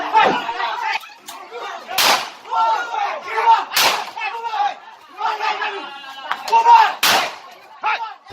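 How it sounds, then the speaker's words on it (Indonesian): Several sharp, loud gunshots fired into the air by police ring out at intervals over an agitated crowd shouting and chattering. "polisi melepaskan tembakan ke atas untuk menenangkan warga yang emosi"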